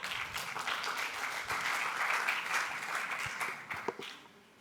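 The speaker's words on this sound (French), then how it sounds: "On va l'applaudir." An audience at a mentalist's morning talk applauds with dense, sustained clapping that holds steady for several seconds before trailing off near the end.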